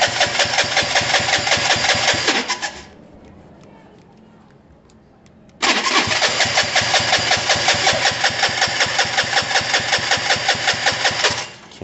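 A Gilera DNA 125 scooter engine cranks and runs with a rapid buzzing idle, drops away for a few seconds, then restarts and idles loudly again.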